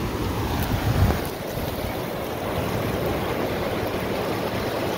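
Big ocean waves surging and breaking against a rocky country beach, a steady broadband roar with a heavier crash near the start, mixed with wind buffeting the microphone.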